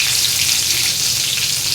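Eggplant pieces fry in a pan with turmeric and salt, giving a steady, loud, close sizzle of hot oil with no pauses and no voices.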